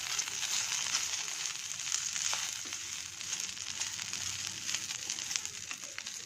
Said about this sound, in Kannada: ಇದೇನು ಜಾಸ್ತಿ ಹುರಿಯೋಂಗಿಲ್ಲ, ಸ್ವಲ್ಪ ಈ ಎಣ್ಣೆಯಲ್ಲಿ ಬಾಡಿದ್ರೆ ಸಾಕು.